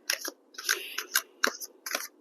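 Tarot cards are shuffled in quick, crisp riffling bursts, close to the listener, with brief pauses between the flurries and nothing else heard.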